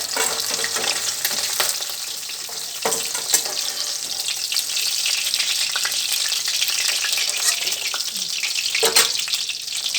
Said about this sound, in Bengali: একটু কড়া করে ভেজে নিলাম মাছগুলো